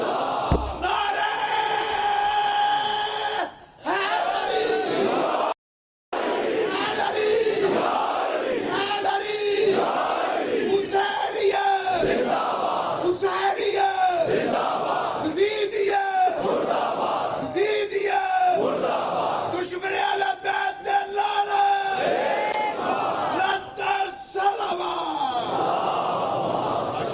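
A large religious gathering shouts slogans together in unison, rhythmic massed call-and-response chants repeating in waves, loud and reverberant, with a brief dropout partway through.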